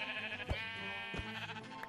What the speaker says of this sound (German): Aber das ist ein Schaf.